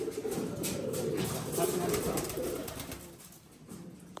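Pigeons coo on a rooftop, a steady low murmur of several birds close by, with other soft bird sounds mixed in and no talk over it.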